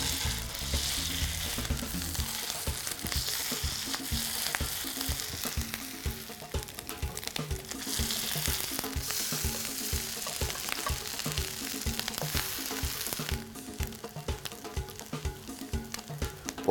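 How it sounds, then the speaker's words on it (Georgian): Small polenta balls fry in hot oil in a pan, giving a loud, continuous crackling sizzle with dense spits and pops, close up with no talking. "პოლენტას პატარა ბურთებს გავაკეთებ და ტაფაზე გავშლი"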